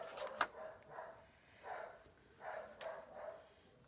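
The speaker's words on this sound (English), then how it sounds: "Promise the dogs will quit barking as soon as the FedEx guy drops off my package." Dogs bark faintly in a home, a handful of muffled, distant barks spaced out over a quiet background.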